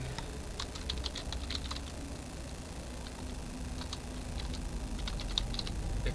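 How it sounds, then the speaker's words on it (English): Rapid, irregular keystrokes on a computer keyboard clatter in clustered bursts over a steady low background hum, close and moderately loud, with no voices. "Keyboard."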